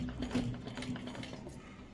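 Sewing machine stitching fabric for a sleeve design, a faint, quick rattling mechanical clatter with a light ticking rhythm, heard close up in a quiet room.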